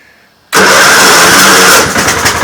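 A small engine, run at full throttle with the choke on, catches abruptly after a quiet moment and roars loudly and steadily close by, the note wavering slightly near the end.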